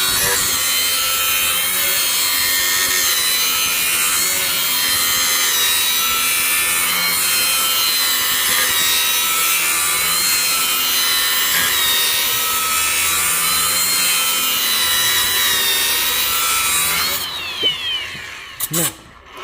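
A handheld Amazon blade grinder sharpens a lawn mower blade with a steady, loud, high grinding whine, metal scraping continuously for about seventeen seconds. It cuts off near the end, leaving a few clunks and rattles.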